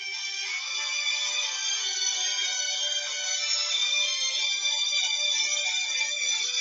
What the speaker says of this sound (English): don't pay attention, this is my phone.